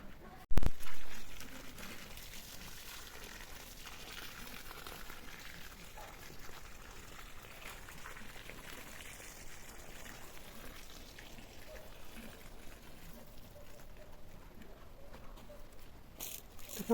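Water is poured into a garden furrow dug for planting onions, giving a steady, soft splashing trickle that runs without a break after a brief knock at the start.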